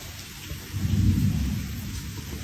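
Steady rain from a rainstorm hisses down while a low rumble of thunder swells and fades in the background.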